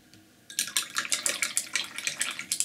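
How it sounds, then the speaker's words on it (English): A flat paintbrush is rinsed in a water pot between strokes of an orchid painting, giving a run of quick, close splashy swishes and light sloshing that starts after a brief quiet moment and continues steadily. "You can wash the brush"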